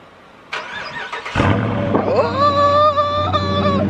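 A newly bought car's starter whirs for under a second, then the engine catches with a loud burst and holds a strong, steady idle with a rising whine, heard up close.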